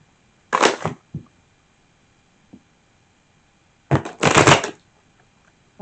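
Two quick bursts of riffling cards, the second longer, with a faint tap in between and otherwise quiet surroundings.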